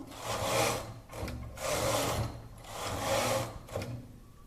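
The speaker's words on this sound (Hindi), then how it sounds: "मैं 3-4 सलाइयाँ इस वेस्ट धागे से चलाऊंगी" A home knitting machine carriage sweeps back and forth knitting a few rows of waste yarn for woollen booties, each pass a rasping, whirring slide of about a second, repeated roughly four times up close with brief pauses between.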